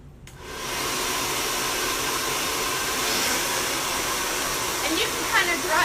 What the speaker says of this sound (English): I'm just going to be drying my hair straight down.